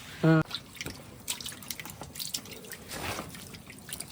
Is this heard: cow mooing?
no